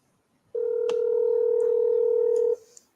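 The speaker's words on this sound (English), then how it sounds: "Let me see if I can call him." A phone line gives a single steady dial tone lasting about two seconds, loud and close, with a faint click partway through and a small tap just after it stops.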